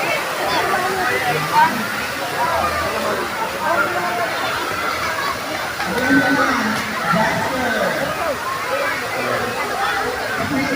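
Water spills out of a spring resort pool into a stream with a constant rushing, sloshing roar, close and loud, while people talk over it at intervals.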